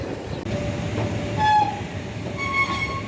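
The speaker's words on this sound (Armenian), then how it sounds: "գնացքը կանգնած է, եկել եմ նստեմ, մնում է 3 րոպե որ շարժվի" A train stands at a busy station, with a steady rumble under the whole clip and short tonal squeals or hums rising and fading over it. No voices are heard.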